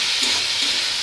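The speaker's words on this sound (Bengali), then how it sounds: "হলুদ আর তেল দিয়ে ভাজা আর লবণ" Vegetables frying in oil with turmeric and salt in a home kitchen: a loud, close, continuous sizzling hiss that fills the whole moment, with no speech.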